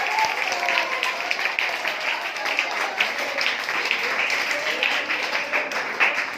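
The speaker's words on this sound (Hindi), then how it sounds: "बहुत सारी तालियां होनी चाहिए आदिल के लिए।" A quiz program audience applauds participant Adil Kaiser, with dense, continuous clapping held steady throughout and voices mixed in over it.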